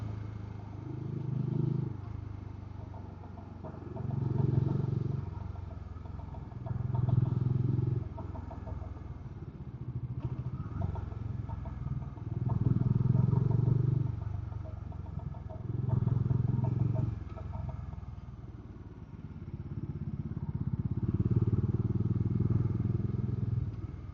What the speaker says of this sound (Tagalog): Lumakas yung makina, tunog ng makina.